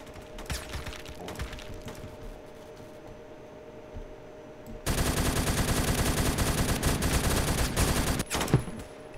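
Automatic gunfire from a support weapon in Roblox Phantom Forces: a few scattered shots at first, then a long, loud, sustained rattling burst that runs nonstop through the final four seconds.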